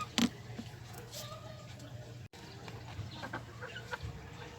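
Laying hen clucking in a small backyard chicken coop, with a few short, soft clucks over faint background noise and a low hum.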